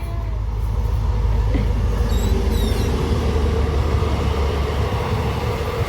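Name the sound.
train passing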